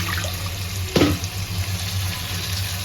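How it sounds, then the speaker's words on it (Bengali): Water splashes into a large pot of fish with spices, a short burst of pouring in the middle over a constant hot sizzle from the pan, close and clear with no talking. "এখন আমি এখানে একটু পানি দিয়ে দেবো মিক্স করে।"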